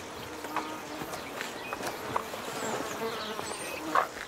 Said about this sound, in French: dehors, des tourbillons d'insectes tourmentent les animaux